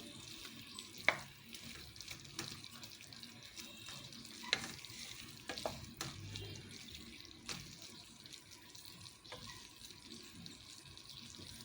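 Hog plum pickle cooks in a pan, giving a soft, steady sizzle broken by scattered scraping clicks of a spoon stirring at close range.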